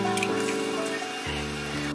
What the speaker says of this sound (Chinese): 再煎三颗鸡蛋。